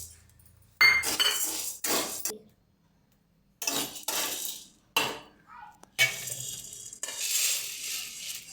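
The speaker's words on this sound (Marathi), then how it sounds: "आपण आता साबुदाणा भाजून घेऊया" Dry sabudana pearls being stirred and roasted in a pan, heard as loud, close scraping and rattling bursts of a few seconds each, separated by short silent gaps.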